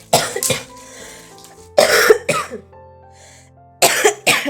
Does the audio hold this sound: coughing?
yes